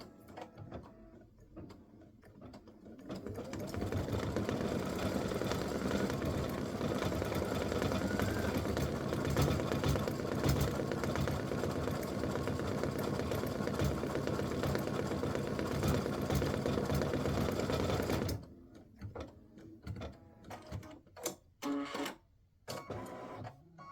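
An embroidery machine stitches a fill design in black bobbin and black top thread, a steady rapid mechanical whirring and clatter running for about fifteen seconds before stopping, followed by scattered handling clicks.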